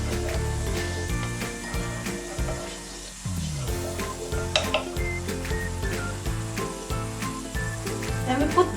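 Oil heating in a reheated pan before garlic goes in, giving a continuous sizzle and hiss with occasional clinks of utensils against the pan, with some faint tonal sounds in the background.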